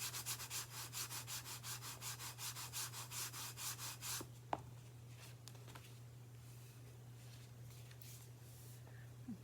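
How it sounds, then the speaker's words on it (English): Paper is burnished onto a watercolor card with quick, rhythmic rubbing strokes over a steady low hum, followed by quieter handling noises and a sharp tap. "Give that a good burnish."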